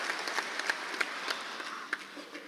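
Sparse, light applause from a conference audience at a forum closing ceremony, scattered individual claps rather than a full ovation, fairly faint and short.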